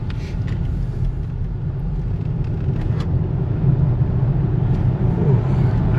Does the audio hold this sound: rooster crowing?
no